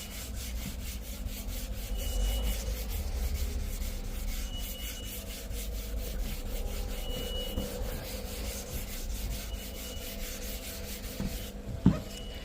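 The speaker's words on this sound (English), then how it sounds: "we're just going to start sanding" A hand wet sands across a scratch in a car's paint, the surface kept lubricated. Steady, close rubbing strokes scrape along in a continuous rhythm, with one sharp knock near the end.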